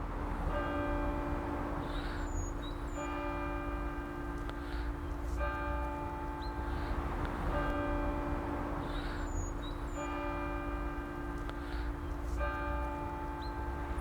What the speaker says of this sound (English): For whom doth the bell toll?